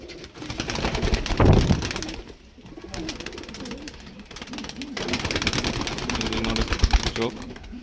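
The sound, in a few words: pair of pigeons cooing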